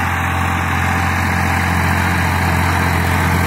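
A Massey Ferguson 1035 tractor engine runs steadily at about 1800 rpm while pulling a 14-disc harrow, a loud, close, continuous low diesel drone with a constant tone and no break.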